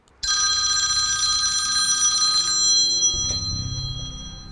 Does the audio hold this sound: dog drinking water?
no